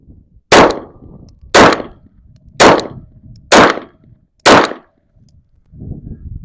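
Five loud, sharp Glock pistol shots fired at a target during an accuracy test, evenly spaced about a second apart, each a hard crack with a short decay, standing alone against quiet outdoor background.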